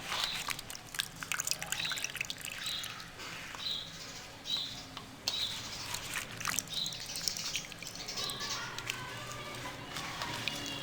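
Water dripping from salted, cut mangoes resting in a basket, a soft irregular patter of drops falling steadily and close with a light trickling background.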